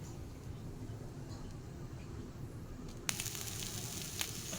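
Mori fish pieces fry in a pan: a low, quiet rumble gives way to a sudden bright hissing sizzle that holds steady to the end, with a few sharper crackles.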